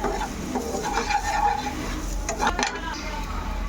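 Boiled pasta being stirred into a pan with melting cheese: scraping, clinking stirs and a faint sizzle run steadily throughout at moderate volume, with a few sharper utensil knocks near the end and no voices.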